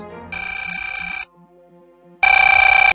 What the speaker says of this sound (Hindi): तो ग्रोवर को फोन लगाया जाए Please.